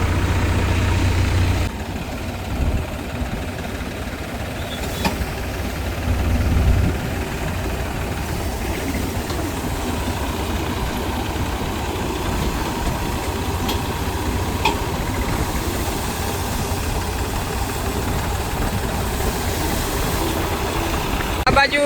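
A Param thresher driven by a tractor runs while threshing freshly cut green mung beans, giving a continuous loud, low engine drone with a constant mechanical rattle and rush throughout.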